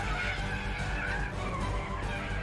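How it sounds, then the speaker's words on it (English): A car drifting fast on a circuit for a stunt produces a continuous tire squeal and skidding roar under a revving engine, loud and close throughout the short stretch. "This is when he learned to drift fast on a circuit, and it had to be perfect."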